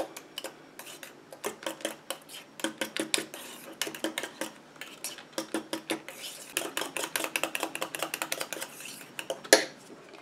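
A utensil stirring a cosmetic mixture in a bowl: rapid, continuous scraping and clinking that is close and fairly loud, with brief pauses and a sharper knock near the end.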